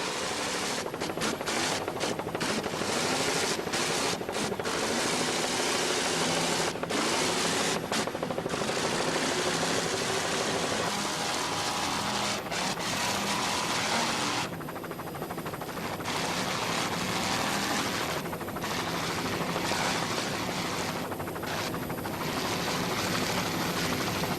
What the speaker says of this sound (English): Dan Cision is doing a fine job of throttling on this Pipeline race team right now.